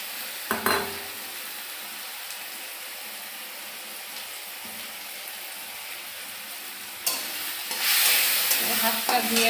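Soaked dried fish (shutki) sizzles steadily as it is stir-fried in a pan, with occasional scraping and clinking knocks of a utensil and a brighter burst of frying near the end.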